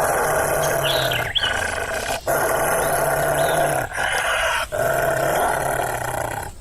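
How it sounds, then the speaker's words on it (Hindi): A wolf gives a long, rumbling growl in several sustained stretches with brief pauses between them, set against a dense, noisy background. "तभी भेड़िया उसे देखकर गुर्राने लगता है।"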